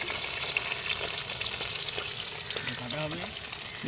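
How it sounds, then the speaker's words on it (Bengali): Fish fries in a pan at an outdoor beach cookout in Odisha, giving a steady, loud hiss and sizzle throughout with faint clatter. "মাছ ভাজা হচ্ছে প্রথমে।"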